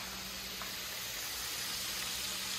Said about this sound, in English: My banga almost finished frying.